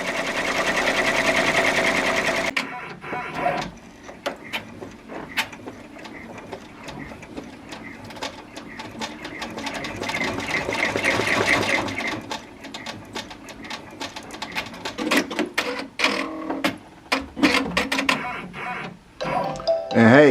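Brother BabyLock Venture embroidery machine stitching a design onto a cap in a cap hoop, a loud rapid mechanical clatter running steadily throughout with small shifts in pace, no voices.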